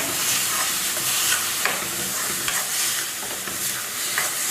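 Onions and tomatoes are sautéed with salt in a pan, a loud constant sizzle overlaid with soft, repeated scraping as a spoon stirs them, close up and without speech.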